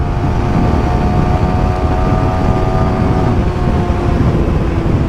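Yamaha R15 V4 motorcycle with an added quick shifter riding in fourth gear, a steady loud engine drone mixed with heavy wind rush throughout, without any voices.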